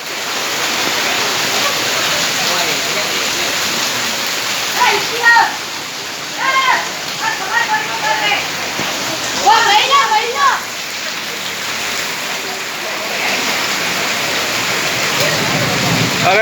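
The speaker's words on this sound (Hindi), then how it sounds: "मूसलाधार बारिश चालू है।" Torrential morning rain pours onto a flooded main market street in Sadri, a dense, constant roar of water with splashing, and voices break through in short bursts partway through.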